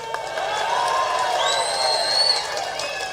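A crowd at a political rally claps and cheers in a steady, dense roar of applause and voices, with shrill whistles rising over it, throughout the full three seconds.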